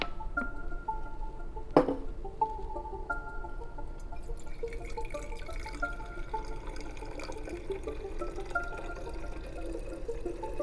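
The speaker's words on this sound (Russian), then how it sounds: "Берем, наливаем наши компоненты" Liquid components poured into a glass laboratory flask beside a magnetic stirrer: a continuous trickling pour with a sharp knock early on, and a few faint drips and clinks over a low background hum.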